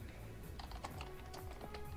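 Rapid keystrokes on a computer keyboard, a close, dense run of light clicks with no talking.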